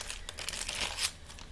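Iridescent washi tear-and-tape is handled and crinkled at close range, a quiet burst of papery rustling that fades out toward the end.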